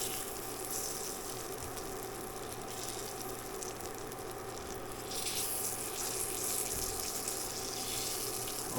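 A pan is cleaned under a running tap, water pouring in a continuous close rush with a hissing edge, growing a little louder and brighter partway through, no speech.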